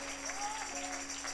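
A church congregation applauds together, a steady wash of clapping sustained over a held musical tone, with voices mixed in.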